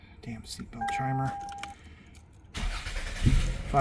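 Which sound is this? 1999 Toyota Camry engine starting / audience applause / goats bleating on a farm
1999 Toyota Camry engine starting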